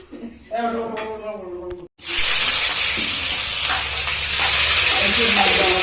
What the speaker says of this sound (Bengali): দেখা যাচ্ছে রাঁধুনি পেঁয়াজ ছেড়ে দিল